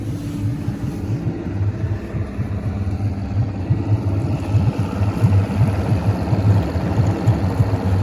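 An outboard boat engine, an E-TEC G2, runs steadily and loudly up close, its throbbing growl building slightly in strength as the RPM increases, with no voices.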